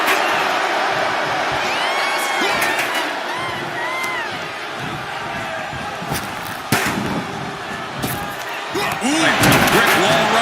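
A roaring arena crowd cheers loudly and steadily at a WWE 2K25 wrestling match, with thuds and slams bursting through and a commentator's voice talking over the noise.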